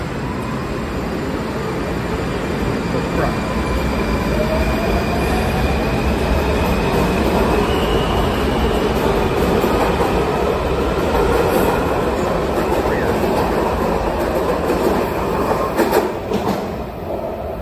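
A westbound DC Metro train of Alstom cars pulls away from the platform, a steady loud rumble of wheels on rail with rising motor whine and faint squeals, sustained throughout with no talking.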